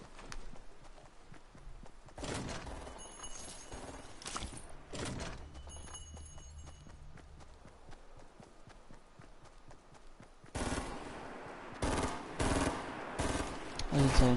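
Gunfire in the Fortnite video game: a few sharp broadband shots and bursts land across the clip, mixed with game effects and footsteps, with voices talking around them.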